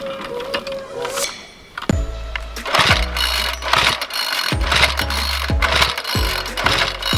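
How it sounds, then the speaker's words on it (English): A small garden tiller engine works a soil slope, starting in sputtering bursts that settle into a roughly once-a-second rhythm of loud chugging thumps with clanking, close by. "I'm gonna bring the tiller over and see if I can smooth this edge out"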